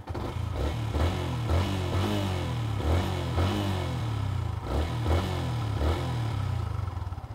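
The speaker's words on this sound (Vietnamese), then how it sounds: "Tiếng ống xả của xe này thì nghe nó chưa được lực, nó chưa sướng, chưa đã tai." A Yamaha Exciter 150 motorcycle exhaust thrums nearby in a steady, mid-pitched pulsing idle, with repeated rhythmic blips of throttle and light mechanical clatter and no talk.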